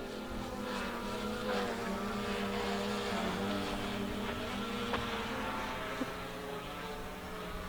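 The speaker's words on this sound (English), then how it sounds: "Drone will be coming right over the top of me here." Hubsan Zino 2 drone passing overhead above the Snake River Canyon, a steady propeller whine and rushing hum that stays loud and continuous throughout, with faint bumps of wind or handling noise.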